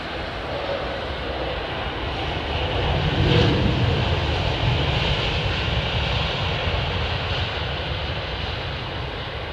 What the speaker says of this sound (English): this is the last arrival into runway 27 right